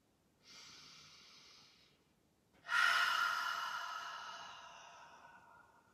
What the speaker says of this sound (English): make some sort of sound from your throat. So inhaling.